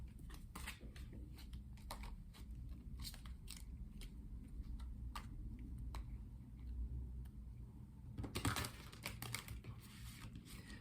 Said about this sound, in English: do some shuffling so we can pull 4 tarot cards for the day.